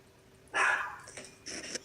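Two sharp dog barks ring out in a household, the first strong burst near the middle and a second shorter one near the end, separated by a quieter yelp, with no voices present.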